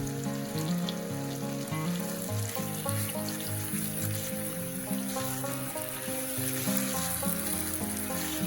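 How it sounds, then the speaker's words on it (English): Pears caramelize with brown and white sugar in a pan over medium-high heat, a soft, continuous sizzle and bubbling under a light background of music-like tones, never interrupted by speech. "Adding 2 tablespoons of brown sugar, and 1 tablespoon of regular sugar. This will help our pears caramelize."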